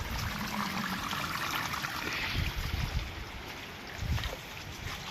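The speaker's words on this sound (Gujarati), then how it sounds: "જો નળીમાં પાણી આવે છે" Water running through a pipe on a farm road in a village during heavy rain, a steady rushing and trickling flow heard close and continuous with no speech.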